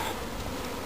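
A swarm of honeybees hanging from a small tree branch buzzes in a steady, dense drone, close and continuous throughout.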